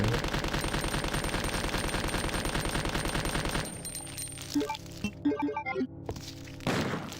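Rapid automatic gunfire from the video game Resident Evil 2, a dense, loud, steady burst for several seconds, then scattered thuds, clicks and metallic game effects with no one talking.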